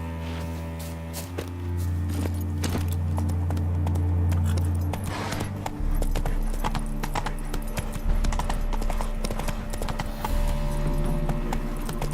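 Horse hooves clip-clop steadily and close by in The Witcher 3: Wild Hunt, a brisk rhythmic trot over low rumbling ambience with no talk.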